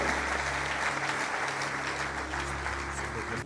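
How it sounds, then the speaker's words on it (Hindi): A church congregation at a Sunday service gives loud, sustained applause to welcome a guest preacher. The clapping forms a dense wash over a steady low hum, with voices mixed in. "जोरदार ताली बजाकर उनको वेलकम करें"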